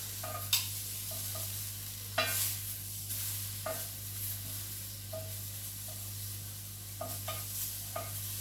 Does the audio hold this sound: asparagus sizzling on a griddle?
yes